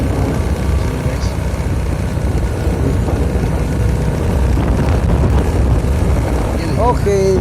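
Motorcycle engines idle and rumble steadily in a busy parking area, a dense continuous low drone with people talking over it throughout.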